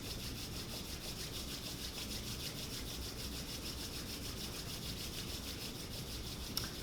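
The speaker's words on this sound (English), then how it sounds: "let's join our palms together at the heart. Rub them together a couple of times." Two palms rub steadily against each other in a calm yoga practice, a soft continuous friction hiss that runs evenly for several seconds with no talk.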